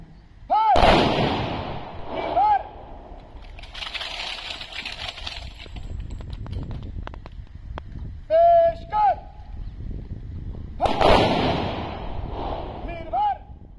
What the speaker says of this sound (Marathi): त्यासाठी हवेत बंदुकीच्या 3 फैरी झाडण्यात आल्या